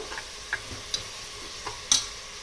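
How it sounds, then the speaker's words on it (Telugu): Biryani masala frying on a medium flame in a pan for a chicken tehari biryani, a soft steady sizzle with a few sharp spoon taps against the vessel spaced irregularly, quiet and close, no voices. "ఇవన్నీ వేసేసి ఒక 10 to 15 మినిట్స్ మీడియం ఫ్లేమ్లో ఫ్రై చేసుకోవాలి, ఆయిల్ పైకి తేలేదాకా"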